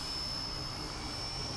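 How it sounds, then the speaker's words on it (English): A small RC helicopter hovers outdoors in wind with a steady, high-pitched electric whine and a constant rotor wash, unbroken throughout and fairly close. "I came out to test an RC helicopter."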